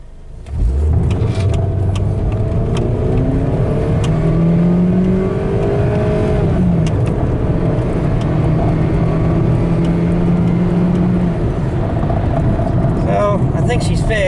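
A Chevrolet Malibu car floored from a standstill, its engine revving up loudly through rising gear pulls for several seconds at full throttle, heard from inside the cabin.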